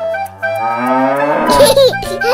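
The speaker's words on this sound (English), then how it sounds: "Cow." A cartoonish cow moos in a 3D animal video game, one drawn-out low moo followed by a brief rising call, close and clear with a light game-music backdrop.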